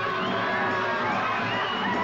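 Dense street crowd noise during a police confrontation, a continuous mass of shouting and raised voices, loud and close throughout the short stretch.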